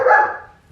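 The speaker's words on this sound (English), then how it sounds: "Why is he barking?" A dog indoors at home lets out a single loud, close bark that fades quickly.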